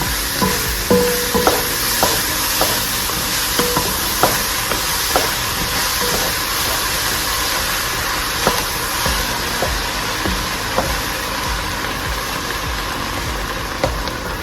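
Sausage cooks with butter in a pot, giving a steady sizzle under repeated knocks and scrapes of a spoon stirring against the pot, close up and fairly loud.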